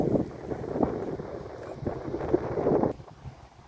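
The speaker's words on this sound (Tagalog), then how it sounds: "Ang lakas ng hangin" Steady roaring wind buffeting the microphone outdoors at sea off Oriental Mindoro, with gusty swells and a low rumble, no talking.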